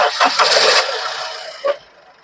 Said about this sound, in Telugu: ఒకసారి మనం వెహికల్ సౌండ్ కూడా చెక్ చేసుకుందాం. Engine sound